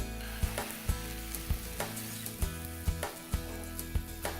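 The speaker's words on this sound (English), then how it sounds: "Once our egg mixture is mixed, we'll add that into the pan." A soft, steady sizzle of an egg mixture cooking in a hot pan, with regular dull taps and scrapes about every half second, close and fairly quiet, no voices.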